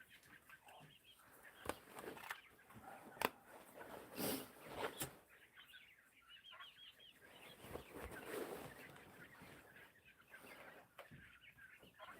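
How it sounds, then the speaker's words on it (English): Roosters sound off among poultry in a cold barnyard, with scattered crowing and clucking bursts over a steady background, moderately near and without talk. "those roosters make a crazy noise, Eggman."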